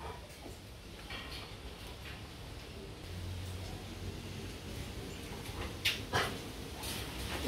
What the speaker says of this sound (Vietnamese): những cái con chó ở trại này